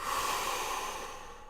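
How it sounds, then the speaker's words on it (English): A person taking a deep nasal breath during a breathing exercise, a steady close airy rush that slowly fades, no talking. "Deep breath in and out"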